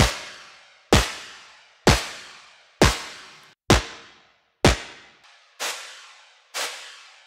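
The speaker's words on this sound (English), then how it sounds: "It shows how amazing it is right here on the snare." Layered synth snare from a Mercury-6 synthesizer, combining a pitch-enveloped snappy hit with a noise release: eight loud, crisp hits at a steady pace, each followed by a decaying noisy tail, with no talking.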